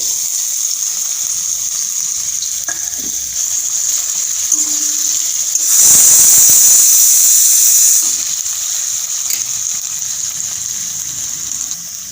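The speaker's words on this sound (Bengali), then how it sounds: "তেলটা গরম হয়ে গেছে আলুর টুকরোগুলো তেলের মধ্যে দিয়ে দেবো" Potato pieces frying in hot oil for a coconut ghugni, a loud sizzling hiss that swells sharply as the pieces hit the oil, holds for about two seconds, then settles back into a steady background sizzle.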